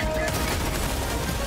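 Helldivers 2 machine gun raider firing, a dense, loud, continuous burst of automatic gunfire filling the short moment, close by.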